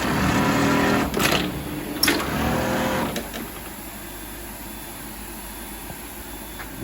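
A Foggiato Strobel KA-ED sewing machine runs with a steady mechanical whir and a few sharp clacks, then winds down and stops when its thread breaks, leaving a faint hum.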